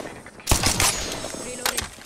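Automatic gunfire in the Apex Legends video game comes in two short, loud, close bursts about a second apart, with quieter background game sound between them.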